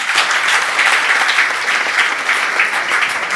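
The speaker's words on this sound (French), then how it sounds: "Sur vos applaudissements." Sustained, even applause from wedding guests right after the vows at an official wedding ceremony, a thick wash of clapping holding steady throughout.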